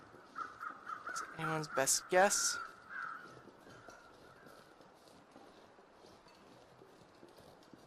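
Crows caw several times in quick succession in a snowy wilderness game world, loud and close for a moment before fading out. Someone talks under and after the calls.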